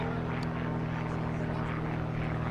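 An F-14 Tomcat jet flies a demonstration at a 1990 Pratt & Whitney air show, giving off a steady, loud, droning engine roar that fills the whole moment without a break.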